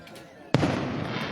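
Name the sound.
fireworks exploding at river fest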